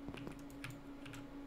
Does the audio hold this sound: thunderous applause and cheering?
no